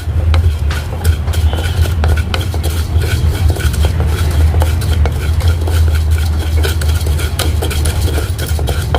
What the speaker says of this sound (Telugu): ఇవి ఫస్ట్ దోరగా వేయించుకోవాలి